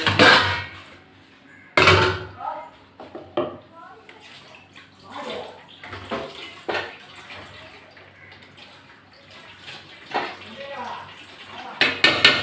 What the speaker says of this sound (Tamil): இப்போ நம்ம வெறும் பாத்திரம் மட்டும்தான் கழுவுற மாதிரி.